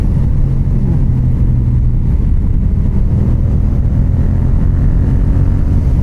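A Yamaha MT-07 motorcycle rumbles with a low, steady engine and exhaust burble, loud and close, masked by wind roar with no talk.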